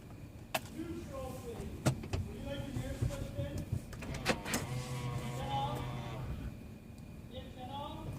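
A car's electric side mirrors fold in at a car wash in Hamilton, Ontario, with a soft motor whir and light mechanical clicks under people talking nearby.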